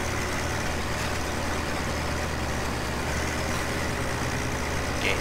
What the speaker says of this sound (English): With this little tractor. This noisy little thing.